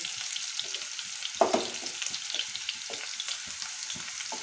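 Carrots frying in a pan for vegetable chowmein, a soft steady sizzle with faint stirring scrapes and small pops, close and quiet with no talk.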